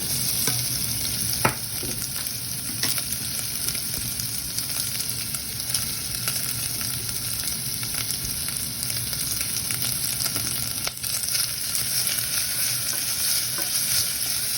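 Onion and ham frying in a pan for a budget creamy pasta, a loud steady sizzle with occasional stirring scrapes and clinks, close up and with no talking.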